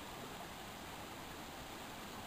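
Water babbles down over rocks at Robin Falls, a steady, unbroken rush of moderately distant cascading water with no voices.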